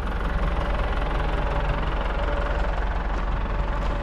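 The engine of a 7740 tractor hauling a four-rotor tedder for grass runs in a steady, loud, low-pitched drone with a constant rumble and vibration throughout, no voices.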